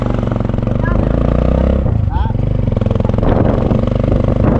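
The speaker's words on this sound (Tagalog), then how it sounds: "Ba, dami motor dito ah." Several motorcycles pass and idle on a busy roadside, a loud, steady engine drone close by that rises and shifts as machines move past, with people talking over it.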